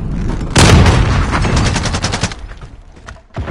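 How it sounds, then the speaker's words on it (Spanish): Loud bursts of rapid gunfire in a Modern Warfare multiplayer match, a dense crackling volley close by for about two seconds, then quieter before one more sharp shot at the end. "¡Me están disparando!"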